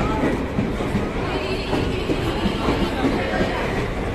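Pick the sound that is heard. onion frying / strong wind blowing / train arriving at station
train arriving at station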